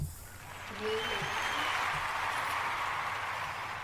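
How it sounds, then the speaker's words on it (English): An audience round of applause on a talk show, a steady wash of clapping that swells after a brief quieter start and then holds evenly. "let's give it them folks a round of applause"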